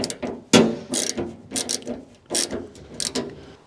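Hand tool tightening a loose part on the engine of a 1962 Rover P4, giving a series of close, sharp ratcheting clicks and metallic scrapes in uneven bursts, with no talk.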